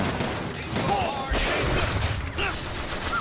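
Bursts of rapid gunfire in BioShock Infinite crackle throughout, layered with other game sound effects and a brief voice in the mix.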